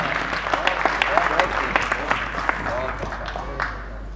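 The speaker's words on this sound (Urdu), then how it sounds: "میں بھرپور تالیوں میں کہوں گا، درخواست کروں گا جناب فیضان عارف صاحب سے۔" Audience applause at a Pakistani community mushaira poetry recital in Portsmouth, a dense, steady burst of many hands clapping throughout, fairly close and loud, with a few voices mixed in.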